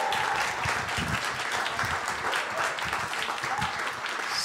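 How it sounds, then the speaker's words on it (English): A large audience claps in a sustained, dense round of applause at an evening artists' tribute event, the steady wash of hands continuing evenly throughout with faint voices mixed in. "if you would give him a big round of applause so we can feel the love"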